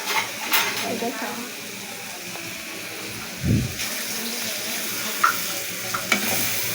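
Food sautés in a pan with a soft sizzle, broken by scraping stirs and a couple of sharp utensil knocks near the end, fairly close.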